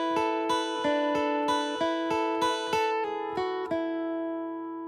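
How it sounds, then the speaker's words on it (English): An arpeggiated picked guitar line from a song: bright single notes plucked in an even, steady rhythm, ringing out clearly and alone before fading. "we have this really cool arpeggio picking guitar line that sounds like this"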